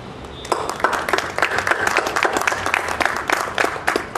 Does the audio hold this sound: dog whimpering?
no